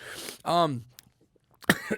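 A single sharp cough cuts in during a podcast interview, close to the microphone and brief, between stretches of a man's speech.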